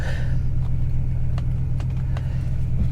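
A warmed-up car engine idling at a Copart lot after carburetor adjustment, a steady low rumbling idle close by with a few faint clicks over it, no talk.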